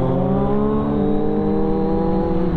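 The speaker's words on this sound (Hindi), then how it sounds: "अपना शुभम भाई की बाइक के अंदर लगा है एरो कूल सिस्टम जो काफ़ी ज़्यादा ही मतलब लाउड है।" Motorbike fitted with a loud aftermarket Aerocool exhaust system, a steady, close, loud engine drone with a strong throaty tone, held under load without pauses.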